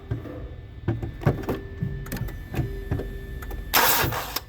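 A car engine that has missed routine maintenance cranks over in a shop in short, stuttering bursts of starter whirring and clunking, ending with a loud hiss of air near the end, and no voices heard.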